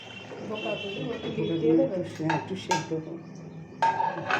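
Vegetarian dhoka dalna, a Bengali lentil-cake curry, being stirred in a cooking pot: intermittent metal-on-pot clinks and scrapes, with louder clattering bursts near the end, under voices talking.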